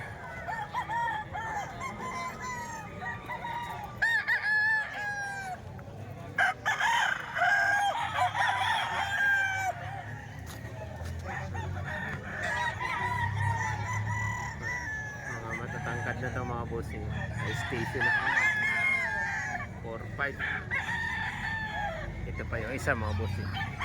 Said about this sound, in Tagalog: magandang manok na mga bossing